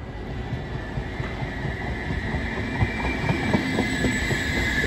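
Train running through Empoli station in Tuscany, a Blues or ALn railcar, rumbling past with rhythmic wheel clatter that swells louder toward the end, alone with no talk.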